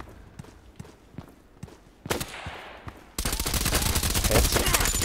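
Rapid gunfire in the ADXsniper video game, a run of sharp separate shots and then a dense, loud burst of continuous firing near the end, with no talk over it.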